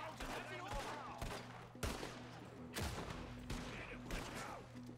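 A shootout in Red Dead Redemption 2 with repeated loud gunshots cracking in bursts roughly every second, each with a sharp attack and echoing tail, over a low steady musical hum.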